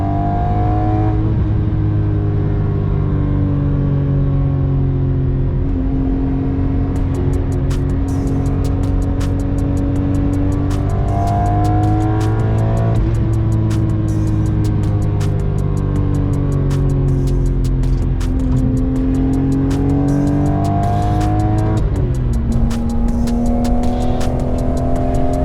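A BMW E46 M3 with its naturally aspirated engine drives hard on a race track, the loud engine note rising and falling through repeated revs and gear changes for the whole stretch, with no talking.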